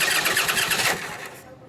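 Starter cranking the 74ci engine of a 1965 Harley-Davidson Panhead FLH motorcycle, a loud rapid churning whir close by for about a second, then easing off.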